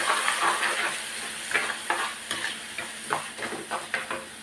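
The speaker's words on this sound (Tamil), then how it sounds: "இதை அரைச்சது இதில் போட்டு நல்லா வதக்கி விடலாம்." Ground masala paste sautés in hot oil with curry leaves for channa kulambu, a busy sizzle broken by repeated scraping stir strokes of a spoon against the pan, close and fairly loud.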